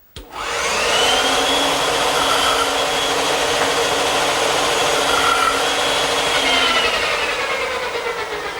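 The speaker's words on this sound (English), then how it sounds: "Now the bandsaw is a good choice to remove the rest of the material to form the tenon." A bandsaw rips through a wooden workpiece, removing waste to form a tenon for a standing mirror frame. A steady, loud whining cut holds for about eight seconds after a brief start, with no talking.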